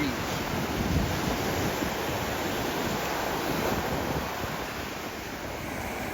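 Ocean surf rolls steadily onto an Alabama beach during a surf fishing outing, with a constant wash of waves and wind buffeting the microphone, loud and continuous throughout with no voices.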